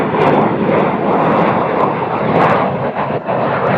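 A fixed-wing airliner takes off at Cincinnati/Northern Kentucky International Airport (CVG) on a cold, windy day, its engines roaring loud, broad and steady for the whole stretch, with wind buffeting the microphone and no talk.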